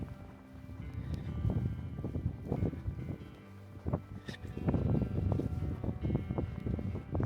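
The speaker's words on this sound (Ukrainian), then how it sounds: "Вітер дуже задуває." Gusty wind buffets the microphone in uneven low rumbling bursts, with some faint knocking and rustling mixed in, no speech heard.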